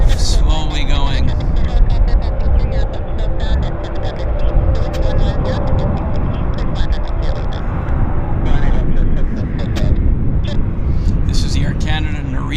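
An Air Canada airliner on the Narita flight taxis slowly at Vancouver airport, a steady broadband jet-engine rumble and whine filling the scene, with people talking nearby throughout.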